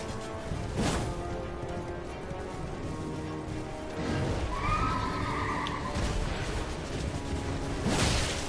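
Horse neighing in the video game Elden Ring, a loud whinny in the middle of the passage set among whooshing hits and clattering game effects.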